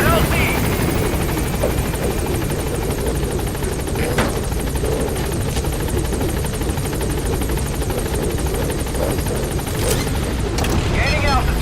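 A helicopter in Metal Gear Solid V: The Phantom Pain thunders with a continuous loud rotor chop at close range, with a voice speaking over it and occasional bursts that may be distant gunfire.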